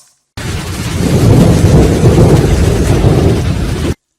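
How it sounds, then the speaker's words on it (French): A heavy storm roars with a deep, rumbling thunder-like wash over driving rain, loud and steady, swelling slightly before it cuts off abruptly after a few seconds. "La tempête augmente en force."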